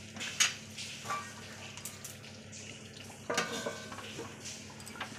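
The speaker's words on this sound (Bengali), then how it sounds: "এবার একটু নেড়ে দেব।" Chicken curry is stirred in a pot with a spoon, giving soft scraping and clinking strokes over a low simmer, close and fairly quiet.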